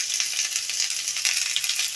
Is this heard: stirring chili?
yes